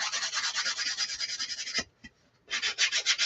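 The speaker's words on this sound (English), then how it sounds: "I'm just going to sand this with a nail file off of my desk" Nail file sanding a wooden snowflake door hanger, close-up rhythmic rasping strokes, a short pause near the middle, then the scraping resumes.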